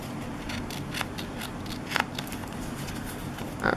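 Scissors trim scrapbook paper with repeated soft snips and rustling crinkles at a steady pace, close by with no speech.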